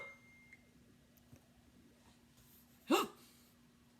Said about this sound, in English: I can cure those hiccups